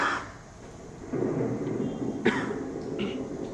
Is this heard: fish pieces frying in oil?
no